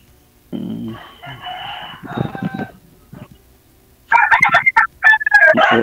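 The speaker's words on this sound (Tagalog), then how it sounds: "Kahit dyan madami yatang manok." Several chickens with a rooster crowing loudly at close range, clucking and calls overlapping in bursts, with a second louder stretch of crowing near the end.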